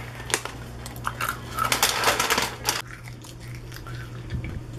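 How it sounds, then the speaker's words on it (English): Granola being bitten and chewed close to the mouth, with irregular crisp crunches packed into the first half and a quieter stretch afterward. "Don't mind me just crunching on granola."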